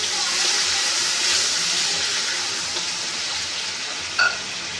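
Chickpeas frying in a pan with browned ginger and garlic and garam masala, a loud close steady sizzle with a brief stir or clatter near the end, no talk.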